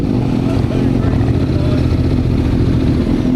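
A loud motorcycle exhaust rumbles steadily and close at idle, a low, throbbing drone that never lets up, with voices talking faintly over it.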